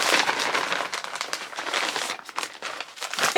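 Plastic zipper bag handled up close during an unboxing, a steady dense crinkling and rustling that shifts in bursts without pause, with no talking.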